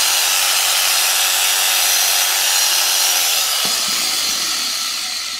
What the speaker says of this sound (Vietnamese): con này là con cưa lọng của Hitachi mã 71